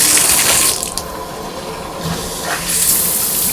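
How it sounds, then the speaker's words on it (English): Water running through a new AquaBliss SF100 shower filter, a loud, steady hiss and splash from the shower head that dips briefly midway and then returns at full force. "we're gonna let the water run through the filter right here first to make sure the water is clean"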